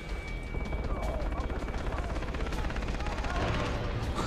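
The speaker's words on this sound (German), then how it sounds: "Soll ich jetzt den Knaller zünden?" Dense crackling bursts of rapid firecracker explosions in Far Cry 3, a loud continuous barrage of pops and bangs with talking underneath.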